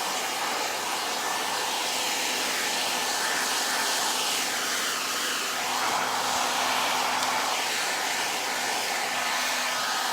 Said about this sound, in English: I'm just holding it so she doesn't duck her head down into the dryer.